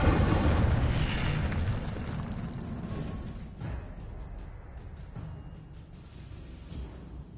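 A fire spell effect erupts as a loud, roaring explosion that starts at full force and slowly fades into a rumbling, crackling tail over several seconds, with no other sounds alongside.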